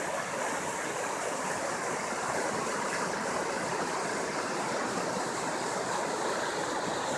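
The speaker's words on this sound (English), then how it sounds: "but water going over all of it" Floodwater on the swollen Guadalupe River rushing past in a steady, loud, dense roar, with no voices.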